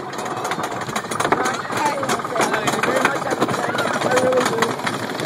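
The Grizzly roller coaster at Kings Dominion rattles and clatters loudly and continuously along its track, a dense rumbling roar with riders' voices mixed in over it.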